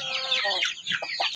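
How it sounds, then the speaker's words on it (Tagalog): A large upgraded native chicken clucks and squawks up close in a run of short, uneven calls, with no other sound around it. "Ang laking klaseng manok."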